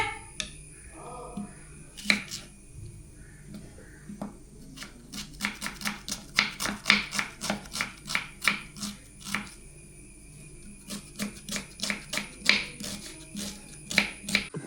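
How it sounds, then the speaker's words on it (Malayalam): Onions being chopped for chicken curry in a home kitchen, crisp rapid knife taps on a board coming in quick bursts, close and clear with quieter gaps between. "അപ്പൊ ഞാൻ ചിക്കൻ കറിക്കുള്ള സവോള കട്ടയാണ്"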